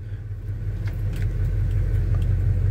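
A 1975 Chevy C10 pickup truck engine idles steadily nearby with a low, even rumble and a faint rattle on top, and no one talking.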